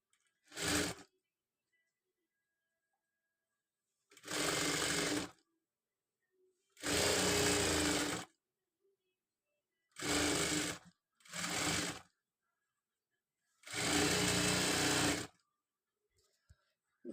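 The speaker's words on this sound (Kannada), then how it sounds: "ಸ್ವಲ್ಪ ಪ್ರೆಸ್ ಮಾಡಿಕೊಂಡು ಇದನ್ನು ಸ್ಟಿಚ್ ಮಾಡ್ಕೊಳ್ಳೋಣ" A sewing machine stitches a designer sleeve in five separate bursts of steady, rapid whirring, each lasting one to two seconds with quiet gaps between, close and loud with no talk.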